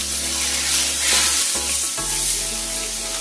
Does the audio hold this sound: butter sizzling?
yes